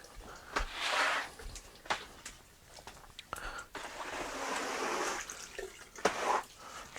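Water drains from a hose off a power-vent water heater toward a floor drain, giving a soft rushing hiss that swells and fades in quiet bursts, alongside occasional handling clunks.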